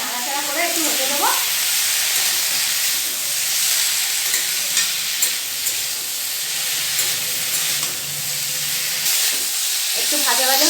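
Pumpkin greens with mustard and poppy seed paste fry and get stirred in a pan, a loud continuous sizzle with scraping stir strokes and brief hints of a voice near the start and end.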